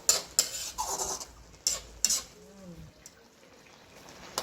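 A spoon scrapes and clinks against a pan while laing, a Filipino dish, is mixed, with a few sharp metallic knocks early on, then quieter soft stirring with faint sizzling.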